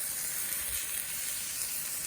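Sous vide Juicy Lucy hamburgers sear on a hot grill for grill marks, giving a steady, close, even sizzle throughout with no talking.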